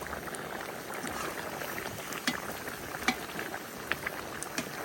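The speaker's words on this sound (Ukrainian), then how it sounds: "Кипіння." Meat for pilaf boils in a kazan cauldron, a steady quiet bubbling with occasional louder pops and splutters throughout, without speech.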